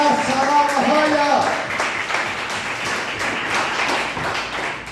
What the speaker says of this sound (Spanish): Aplaudo al Cristo que todo lo puede.